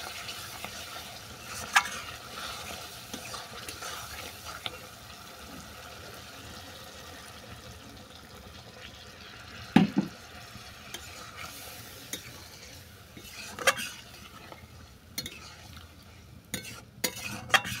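Chicken curry with added water is stirred in a pan, giving a soft, steady simmering sizzle with occasional scrapes and clinks of a spoon against the metal, close and moderately quiet, no speech.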